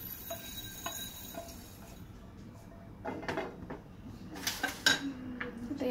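Roasted fenugreek seeds scraped out of a pan while making lime pickle: a few light metallic scrapes and clinks, sparse early then a cluster of sharper clatters near the end, close and fairly quiet, no talk.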